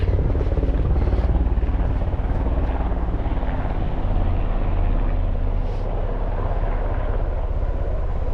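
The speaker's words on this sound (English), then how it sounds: "Big helicopter. Not army, but big." A large civilian helicopter drones overhead in the Welsh mountains, its steady rotor thump and engine roar holding strong throughout before easing slightly toward the end.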